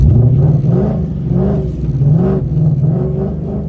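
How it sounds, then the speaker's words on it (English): A car engine revs repeatedly through its exhaust, a deep throaty burble rising and falling in several pulses, close and loud with no talking. "I definitely love this exhaust."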